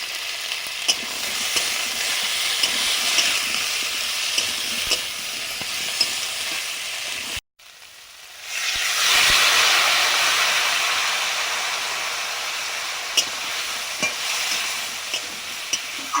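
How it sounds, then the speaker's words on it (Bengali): Vegetables cook in a pan with turmeric, chili, and ground cumin-coriander paste, giving a steady sizzle with stirring scrapes. A brief silence follows, then water goes in and a louder, hissing sizzle builds. No one speaks. "জল দিয়ে মশলার সঙ্গে সবজিটা কষে নিচ্ছি।"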